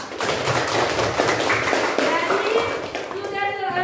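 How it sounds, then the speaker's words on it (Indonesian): A class of students claps hands together after group discussions, a dense burst of applause lasting several seconds, with a voice speaking near the end. "Beri tepuk tangan dulu untuk kita semua."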